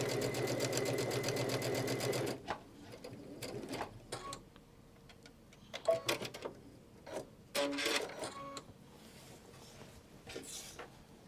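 Sewing machine stitching a quilt, a steady fast mechanical whir for about two seconds, followed by scattered clicks, taps and short bursts of handling noise at close range.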